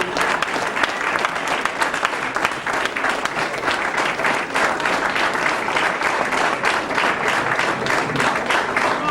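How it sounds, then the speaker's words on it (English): A Nation of Islam gathering breaks into loud, continuous applause for a first-time guest, many hands clapping together in a close, energetic burst that holds steady throughout. "Let's give our first time guest another round of applause,"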